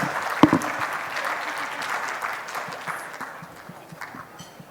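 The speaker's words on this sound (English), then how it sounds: "Could we please have a big round of applause?" Audience applause at a jewellers' charity event, a crowd clapping steadily with a loud clap near the start, then gradually thinning and fading toward the end, with faint voices mixed in.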